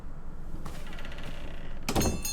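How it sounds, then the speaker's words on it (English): A tiny door in the video game King's Quest opens with a soft mechanical slide, then a brighter clattering sound near the end, quiet overall. "we will open this tiny little door"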